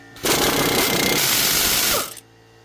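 Ratchet with a 17 mm socket working a rusted rear brake bolt on a Mazda CX-7, a dense, loud continuous burst of mechanical clicking lasting nearly two seconds and close up, then stopping abruptly.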